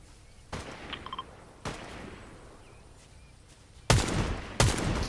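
In Fortnite, gunfire sounds as a few sharp shots spaced apart, with two louder, closer reports near the end against quiet game ambience.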